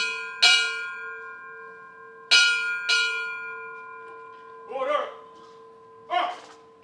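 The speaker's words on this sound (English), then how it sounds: "we'll do the ceremonial sounding of the bell" A ceremonial bell is struck four times with slow, uneven spacing at a remembrance ceremony, each strike ringing out in a long sustained hum that lingers beneath the next.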